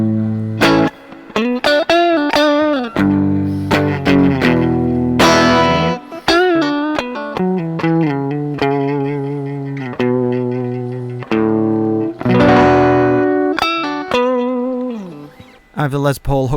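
Les Paul electric guitar through an MXR 6 Band Graphic EQ pedal, with a shaped, boosted tone, plays chords and single notes in a steady, loud passage, with a touch of reverb.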